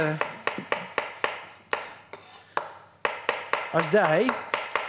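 A knife chops steadily on a cutting board, sharp regular knocks in quick succession, close up, while a person talks and hums in between.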